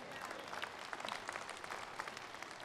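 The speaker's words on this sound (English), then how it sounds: "I think we ought to have a better hand clap than that." A church congregation claps their hands together, a dense, fairly faint patter of many hands sustained throughout with a few louder individual claps.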